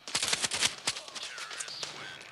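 Rapid bursts of gunfire from the mobile shooter game Standoff 2, several sharp overlapping shots in quick succession in the first second, then scattered thinner game effects and tones trailing off.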